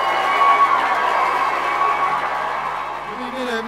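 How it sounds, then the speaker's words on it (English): A crowd at the 2012 Wrexham Christmas light switch-on cheers and applauds the Deputy Mayor and his wife, a steady wash of outdoor crowd noise with scattered shouts that holds loud throughout. "round of applause, please, for the Deputy Mayor and his lady wife"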